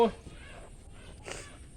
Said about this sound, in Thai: อีกาครับ อีกาดำ